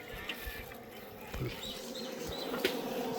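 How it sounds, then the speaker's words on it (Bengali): Honey bees hum at a nest in banyan tree roots, a faint, steady buzz close to the microphone, with a few soft knocks and handling sounds and no talk. "মৌমাছির শব্দ।"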